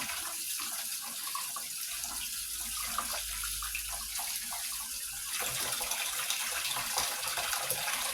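Kitchen tap running steadily as pork steak is rinsed under the stream, a continuous close hiss and splash of water that shifts in tone partway through as the flow hits the meat and sink, with no talking.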